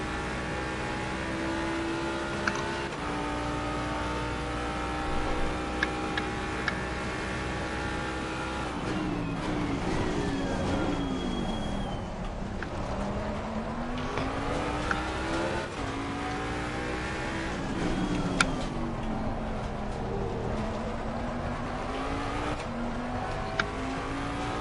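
A GT3 race car engine in a racing game at Circuit of the Americas revs hard and steadily, its pitch dipping as it lifts and brakes into corners and then climbing again on acceleration, with gear shifts and faint tire noise throughout.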